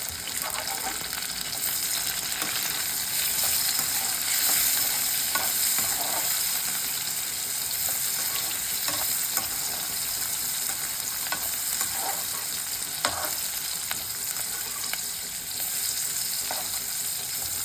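Sliced onion and green mango fry in a pan for an anchovy curry, giving a steady soft sizzle with occasional stirring scrapes and clinks, with no talk over it.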